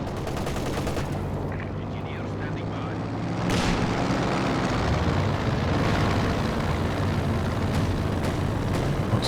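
A plane flies over a Company of Heroes 2 battlefield, its roar rising and holding steady under a dense, continuous din of gunfire and explosions, with a commentator talking over it.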